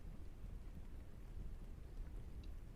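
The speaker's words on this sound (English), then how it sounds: "It seems like it's drizzling." Light rain drizzles outside a cafe, a faint, steady hiss of soft patter with no talking.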